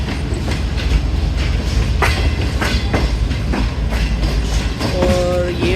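Lahore Orange Line metro train rolling past with loud, rhythmic wheel clatter over rail joints, sharp clicks, and a brief wheel squeal near the end, dense and close.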